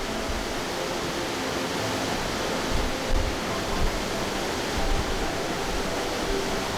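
Waterfall at Blue Moon Valley in Yunnan, a steady, dense rush of falling water with no breaks, filling the scene evenly from start to finish.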